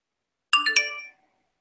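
A short phone ringtone chimes once in a quick melodic burst of bright tones, loud and alone against silence, ending abruptly.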